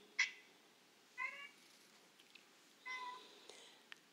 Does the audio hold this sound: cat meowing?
yes